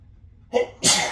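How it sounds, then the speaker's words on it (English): A single sharp sneeze, close and loud: a quick breathy intake followed by an explosive burst, with no talking. "I'm sneezing."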